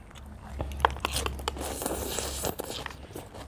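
Crisp crunching bites of fried chicken skin close up, a few sharp crackly chews spread over a few seconds with a low hum underneath.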